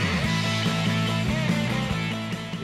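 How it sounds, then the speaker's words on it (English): Simulation of sound heard through an Earlens contact-lens hearing aid: a full, crisp musical passage with clear low notes and bright upper detail, steady and close for under three seconds. "The ear lens sounds like this to patients."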